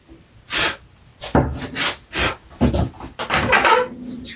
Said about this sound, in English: There's the fibers coming up. Let's cut them.